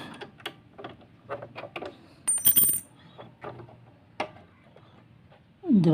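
A sewing machine needle being taken out, heard as a series of small metallic clicks, taps and a brief scrape from the mechanism, close and sparse, ending in a short rustling burst.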